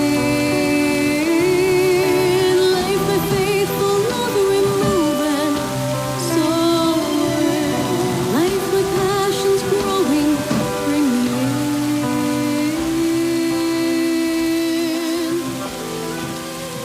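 Steady rain falls throughout, a continuous wash of patter with sustained melodic tones layered over it.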